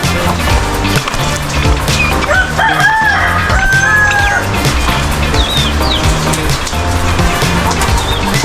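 Chickens, including black hens, cluck and a rooster crows amid a busy, dense barnyard din shared with turkeys, during rainy weather, with steady low rumbling noise underneath throughout.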